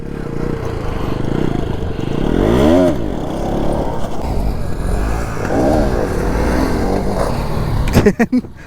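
A motorcycle engine revving hard in bursts during power-wheelie training, rising and falling in pitch close up, with a clattering burst of revs near the end.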